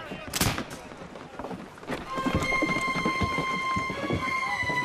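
Ship's guns fire during a naval battle. A heavy blast is followed by rumbling booms and a dense, roaring din, with shouted voices and a high ringing tone layered on top.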